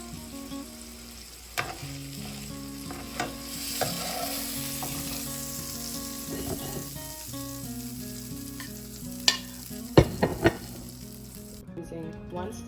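A cooked steak sizzling in a frying pan, a continuous crackling hiss with a low hum beneath and a few sharp clatters near the end, no voices.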